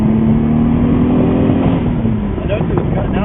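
A car with a boosted engine pulls away and accelerates, its steady engine drone loud and close, with faint higher-pitched engine and turbo whine toward the end.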